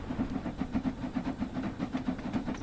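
A Stanier 8F steam locomotive in the Train Sim World 2 game hisses steam in a fast, even pulsing rhythm over a low rumble, moderately loud and steady throughout.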